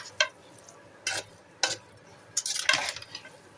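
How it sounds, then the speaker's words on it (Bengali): Parboiled rice frying in ghee for zarda in a pot, with a soft sizzle under four or five sharp scrapes and clinks of a spoon stirring against the metal. "ঘিয়ে ভাজা হচ্ছে, তেমন সমস্যা হবে না।"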